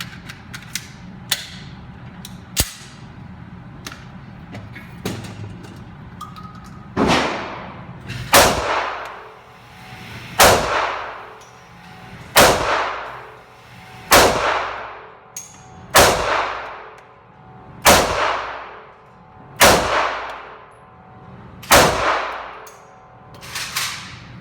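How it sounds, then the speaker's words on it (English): Sig Sauer P239 pistol fired at a target 10 yards away on an outdoor range, about a dozen sharp, loud shots, a few quick ones at first and then a steady, evenly spaced series, each with a short ringing tail. "Alright, our second mag, I shot it high, and I kind of got a little bit better feel of the gun again"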